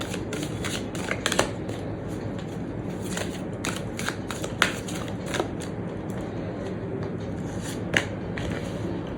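Tarot cards being handled and shuffled up close, a run of crisp riffling flutters and soft slaps with a few sharper snaps as a card is drawn, fairly quiet and with no speech.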